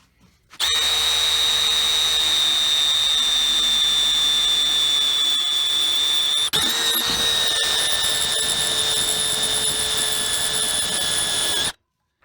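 A drill bit grinds into stainless steel with a steady, loud, high-pitched metallic whine for about eleven seconds, briefly shifting pitch midway as the bit bites, then stopping abruptly.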